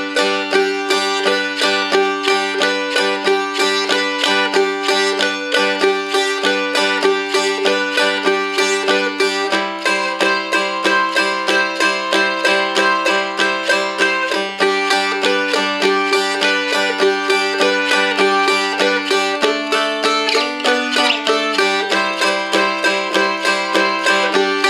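A Seagull Godin M4 dulcimer is strummed through a 12-bar blues pattern in a steady, even rhythm with bright, ringing chords, played alone and up close for about twenty-five seconds.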